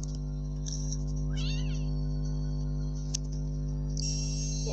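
A cat meows in a video game, one short rising call over a constant humming background, with a brief chime at the end.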